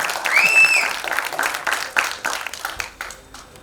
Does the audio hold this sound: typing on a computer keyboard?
no